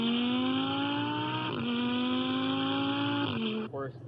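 A Lamborghini Gallardo's 5.2-liter naturally aspirated V10 revving hard and climbing steadily in pitch, a brief dip at a gear change, then rising again before lifting off near the end.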